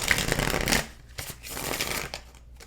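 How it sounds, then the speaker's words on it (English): A deck of cards is riffled in a loud burst, then handled and shuffled more softly in quieter, scattered flicks, close by with no talking. "Why am I shuffling this deck?"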